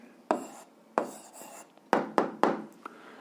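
Handwriting an answer with pen on paper: several short, sharp scratching strokes in uneven bursts, close and fairly clear, with quiet pauses between them.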